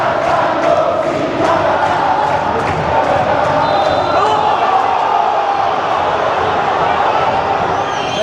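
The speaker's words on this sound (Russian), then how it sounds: "Трибуны оживляются, фанаты поют, фанаты бодрейше поддерживают команду." Football fans at a Universidad Católica match in Chile sing and cheer from the stadium stands, a dense, steady roar of massed voices with chant-like swells, heard from within the crowd.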